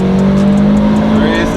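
A Subaru Legacy STI and a Toyota Caldina with a boosted 3S-GTE engine race, their engines holding a loud, steady drone close by, with a voice partly audible over the noise.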